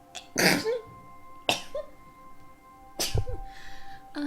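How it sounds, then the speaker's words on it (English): Three sharp, loud sneezes, evenly spaced about a second and a half apart, each a quick explosive burst of breath with a short vocal edge. "Oh no, I'm gonna sneeze."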